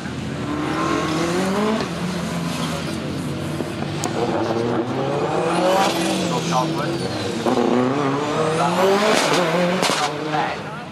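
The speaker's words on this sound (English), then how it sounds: "the Cleaver carries on around this way while the McRae Subaru wheels off" A Subaru rally car driven by McRae runs at the Race Retro event, its engine rising and falling through repeated revs and gear changes, loud and close, with someone talking over it.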